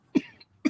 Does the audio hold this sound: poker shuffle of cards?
no